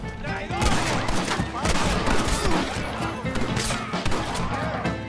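Dense bursts of gunfire fill a Red Dead Redemption shootout, with loud overlapping shots and cracks crowding close together under game sounds.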